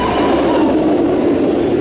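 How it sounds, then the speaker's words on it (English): Premier Rides Tigris roller coaster at Busch Gardens Tampa Bay firing its backwards launch: a steady, loud rushing roar with rumbling low end, continuous through the whole stretch, heard close with no talk. "Into your backwards launch, quite intense."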